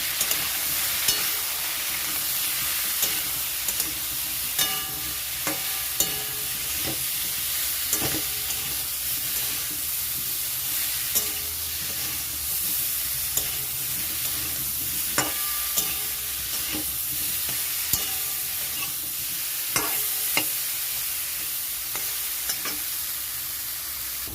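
Spice masala of cumin and Kashmiri chilli powder fries in a pan for a rohu fish curry, a soft continuous sizzle broken by frequent sharp scrapes and taps of the spoon as it is stirred, close by with no talking.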